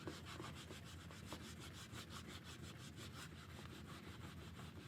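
A fingernail scrubs and scrapes adhesive residue off a surface. It makes a faint, steady, rhythmic rubbing close by, with quick repeated strokes and no voices.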